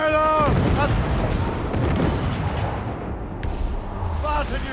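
Ship cannon broadside fire in the naval battles of Assassin's Creed Rogue, a dense, continuous barrage of booming shots rolling over several seconds with a shouted voice at the start.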